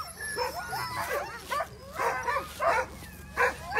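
Sled dogs at the start of the 2022 Copper Basin 300 race bark, yip and whine excitedly in repeated close bursts, many overlapping, with a steady outdoor hum beneath.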